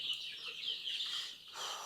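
High, thin cheeping of young chicks, ten to thirty days old, several birds peeping continuously at moderate distance with no voices.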